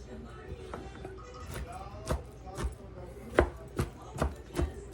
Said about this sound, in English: Give it a little bit of a chop there.